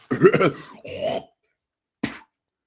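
A man imitates coughing up phlegm with his voice, giving a harsh, gurgling throat-clearing hack followed by a short sharp second burst, close and loud, with no other sound around it.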